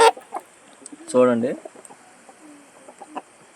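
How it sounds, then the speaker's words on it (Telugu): Native country roosters, four kept together in one coop on a farm, give a short burst of clucking calls near the middle, with a voice briefly speaking and quiet background noise around it. "ఇవి వచ్చేసి నాటు పుంజులు అనమాట"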